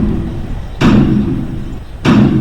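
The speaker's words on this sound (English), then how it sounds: "No, they're pounding on the door." Pounding on a door in an audio drama about a lighthouse keeper: two loud, heavy thuds spaced about a second apart, each a sharp hit with a short booming decay over a low rumbling background.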